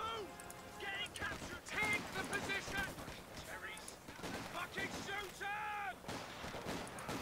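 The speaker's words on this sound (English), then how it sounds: "enemy snipers everywhere" Company of Heroes battle: faint, distant shots crack again and again under a busy mix of combat effects and voices, with one sharp report standing out near the end.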